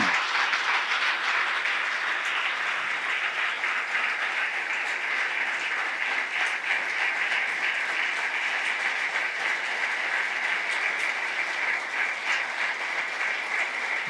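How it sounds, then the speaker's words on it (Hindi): A church congregation at a prayer meeting applauds in a steady, dense wash of clapping that holds for the whole stretch without voices on top. "जोरदार तालियां एक दफा फिर।"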